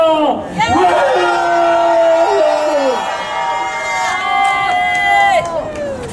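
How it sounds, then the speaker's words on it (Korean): A crowd at a Korean protest rally in Los Angeles, calling for a president's impeachment, raises a loud collective shout. The many voices hold a sustained, wavering cry for about six seconds before it tapers off. "다 같이 함성 한번 외치겠습니다"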